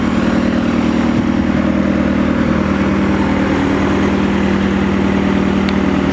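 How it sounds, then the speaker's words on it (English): A mobile water pump engine runs with its hood off beside a canal, producing a loud, steady, unbroken drone with a low throbbing rumble that holds throughout, close by and with no voices. "It's a cool looking pump with no hood."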